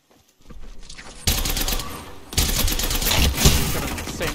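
Rapid gunfire in a multiplayer shooter game, bursts of automatic shots that start faintly, then turn loud and dense in two waves, coming at the player in close, continuous volleys.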